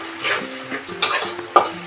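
Potatoes with garlic fry in a pan, a soft sizzle broken by several scraping stirs in quick succession, close and clear with no talk.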